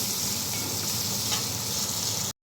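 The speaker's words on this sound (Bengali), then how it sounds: "আমি মাছগুলো ওই মরিচের সাথে কষিয়ে নেব" Hilsa fish fry with chilies in a pan, giving a steady, close sizzle that runs evenly and then cuts off abruptly.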